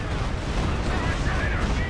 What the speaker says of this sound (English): Successful Barrage.